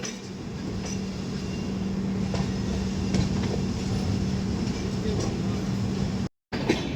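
The Humsafar Express rolls steadily along the rails from Jammu to Sealdah with a constant low rumble and faint rhythmic clacks, heard from inside, with a brief dropout near the end.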